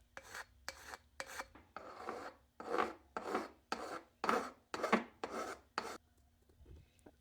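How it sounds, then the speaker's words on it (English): A metal file rasps against a thin aluminum can in about a dozen firm, rhythmic strokes, close up, with short pauses between each pass. "then finished it off with a file."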